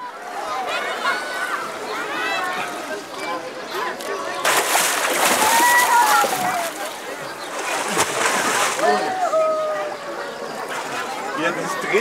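Continuous sloshing and splashing as polar bears swim in a zoo pool, with people chattering in the background and brief squeaks rising over the water.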